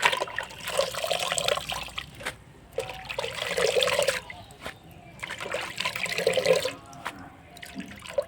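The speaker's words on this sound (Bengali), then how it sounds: "পাতাগুলো আমি খুব ভালো করে ধুয়ে নেব জলে" Pumpkin leaves being washed in water make repeated splashing and sloshing bursts with trickling between them, close and moderately loud, with no speech.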